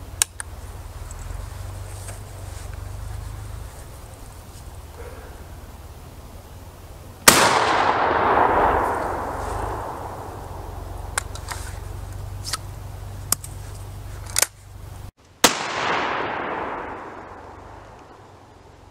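Two sharp, loud shotgun blasts fired at a target through a full choke, the first after about seven seconds and the second about eight seconds later, each ringing out with a long echoing tail over quiet outdoor background.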